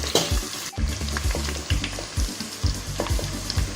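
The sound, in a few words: sautéing shallots and coconut pieces in pan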